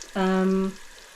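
Egg frying in a Cosori air fryer gives a short burst of sizzling and spitting that lasts about half a second, then fades.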